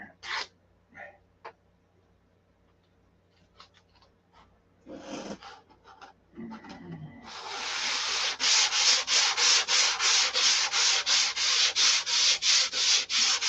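Hand sanding with 320-grit sandpaper: a few scattered rubs and knocks give way to a loud, close, rhythmic run of back-and-forth strokes, about two per second.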